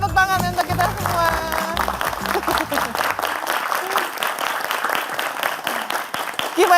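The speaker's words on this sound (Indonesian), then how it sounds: "Ya, tepuk tangan untuk kita semua" An audience claps steadily through a studio brain-exercise segment, the sound dense and continuous, with music fading out early and a voice speaking over the clapping.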